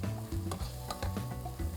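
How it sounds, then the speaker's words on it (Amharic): Whole lentils and vegetables sizzle in a pot while a spoon stirs them for lentil soup, giving a steady frying hiss broken by repeated scraping strokes. "ምስሩና አትክልቶቹ እየተዋሃዱ ነው ያሉት"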